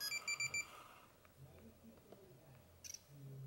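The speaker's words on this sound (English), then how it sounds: "this is the first gen, because it has a literal beeper in it" A first-generation phone's built-in beeper sounds a quick series of sharp electronic beeps, then gives way to quiet handling noise and a few faint clicks, with one more short chirp near the end.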